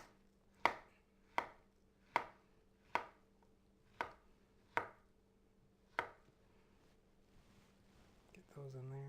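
A banana sliced into rounds on a cutting board for fruit salad, seven crisp knife taps at a steady, unhurried pace, close by and quiet, with no talking.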